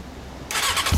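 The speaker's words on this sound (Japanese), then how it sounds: "オッケー、エンジン音聞かせてもらえるかな。" A 2005 Honda CB400 Super Four Hyper VTEC Spec III (NC39) with a one-off Yoshimura exhaust cranks and catches in the second half, a brief burst of starter whir followed by a rough low rumble, close by.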